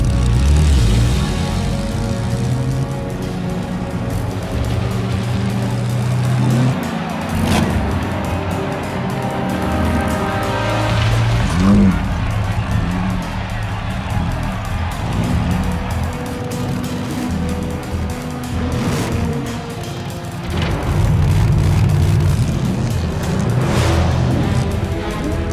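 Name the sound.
race car engines at a race start in The Saboteur video game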